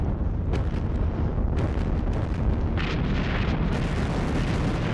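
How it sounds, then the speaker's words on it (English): Artillery fire rumbles continuously in the Battles of Normandy game, set during Operation Goodwood in 1944, with loud low booms and several sharp bursts over a dense, steady roar. "Here comes his artillery."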